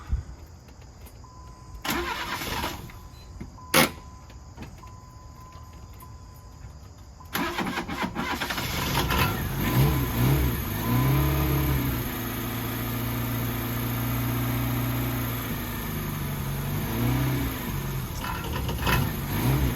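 An old, rusted Jeep engine cranks and catches after a few quiet knocks, then runs steadily up close with repeated revs rising and falling over a rough idle, with no talking.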